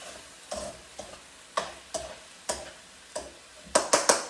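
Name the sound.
potato, bell pepper and tomato stir-frying in a pan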